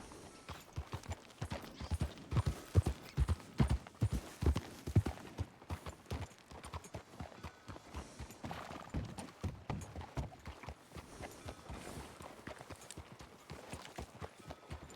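Horse hooves clip-clopping steadily in the Red Dead Redemption video game, a quiet, even rhythm of hoofbeats running throughout with no talk over it.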